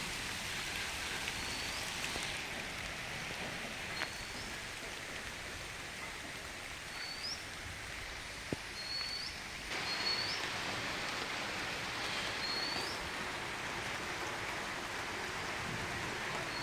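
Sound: light drizzling rain in Konkan

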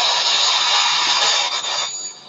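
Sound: vacuum cleaner running in the background

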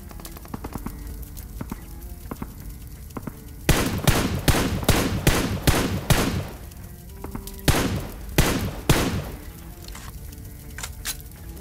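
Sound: gunfire in a battle royale video game

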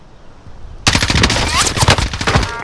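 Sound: gunfire in video game Call of Duty Warzone Rebirth Island

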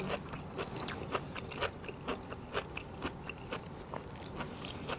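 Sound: chewing crunchy Thai bamboo shoot salad

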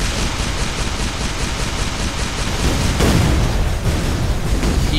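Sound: point blank explosion in video game Shellshock Live

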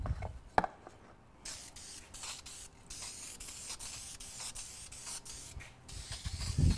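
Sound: spraying DEFT spray gloss lacquer on wood

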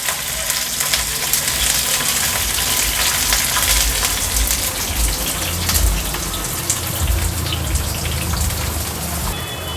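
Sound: garlic and green chilies frying in oil

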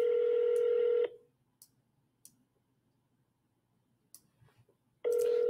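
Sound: telephone dialing a call

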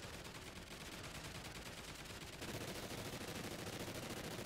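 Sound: rapid-fire explosive ammo gunfire in Call of Duty: Ghosts Extinction video game

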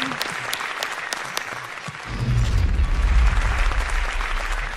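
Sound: audience applause

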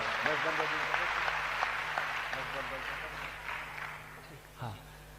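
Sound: audience applause

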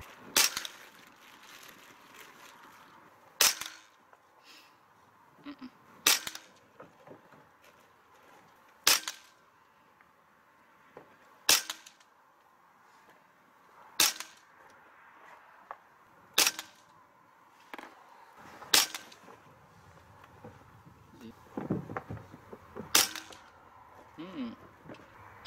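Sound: Hatsan Bullmaster .25 PCP air rifle firing HN Barracuda pellets

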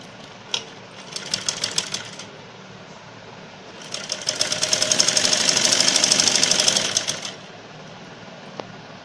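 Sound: sewing machine stitching a fabric strip

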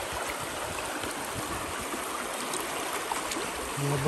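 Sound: water running through a gold sluice box

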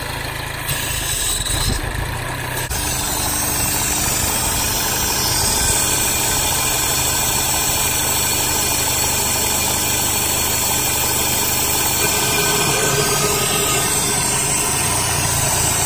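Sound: car engine idling

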